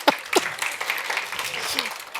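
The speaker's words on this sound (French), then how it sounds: "vous pouvez vous applaudir" A seminar audience claps for themselves after a group exercise, a short scattered burst of applause with a few sharp individual claps and voices mixed in.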